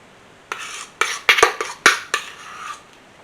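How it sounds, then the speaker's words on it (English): Cheesecake mixture for a cheesecake-stuffed pumpkin bread is spooned onto the pumpkin bread batter, giving about six close scraping, clinking spoon strokes against a bowl in an uneven rhythm, with no talking. "now I'm just going to spoon this onto"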